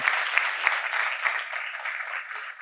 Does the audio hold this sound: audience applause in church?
yes